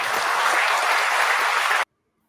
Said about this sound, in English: Why are they clapping at that?